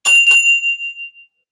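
A bright bell gives two quick dings close together, and the metallic tone then rings on and fades over about a second.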